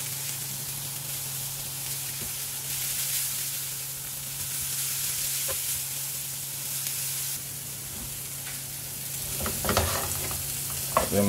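Bean sprouts frying in olive oil make a steady soft sizzle, with scraping stir strokes coming through more clearly toward the end; no voices.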